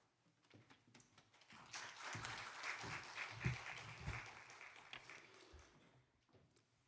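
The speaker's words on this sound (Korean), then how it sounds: "오늘 목사님 나오실 때 박수로 환영하겠습니다" A university chapel congregation welcomes the pastor with applause that swells from a few scattered claps into a fuller round, then tapers off, heard from a moderate distance.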